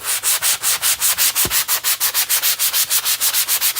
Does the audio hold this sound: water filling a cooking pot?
no